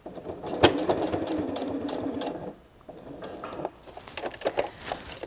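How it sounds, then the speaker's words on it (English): A sewing machine stitches across the bottom of a fabric cutlery roll made from scraps, its motor whirring in a steady close run that stops briefly partway, then resumes in shorter uneven bursts. "And then turn it back again and sew across the bottom."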